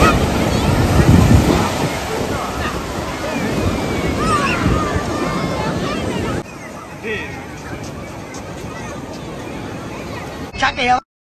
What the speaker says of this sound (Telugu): సముద్రం అయితే మంచి పొంగు మీద ఉంది